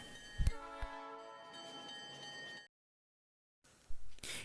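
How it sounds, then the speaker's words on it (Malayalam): A train sounds its horn-like whistle while street running slowly along a public road: a steady, loud harmonic blast for about two and a half seconds, then silence, then a burst of rumbling noise. "പൊതുവെ ചൂളമടിച്ചും അലാം മുഴക്കിയും വളരെ സാവധാനം മാത്രമാണ് ട്രെയിനുകൾ സ്ട്രീറ്റ് റണ്ണിംഗ് നടത്തുക"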